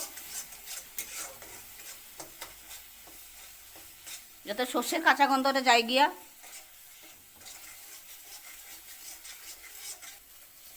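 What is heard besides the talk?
spice paste being fried and stirred in a pan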